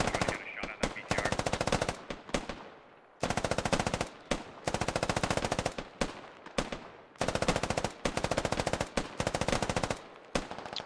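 Repeated rapid machine-gun bursts in a military video game hammer out loud and close, each lasting about a second with short gaps, rattling almost continuously throughout.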